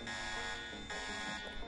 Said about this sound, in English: I just activated the alarm, because I stayed hacking for too long.